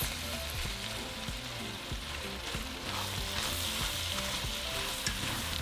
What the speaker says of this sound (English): after 8 minutes, we're going to add our sausages. We're going to cook that for 5 minutes.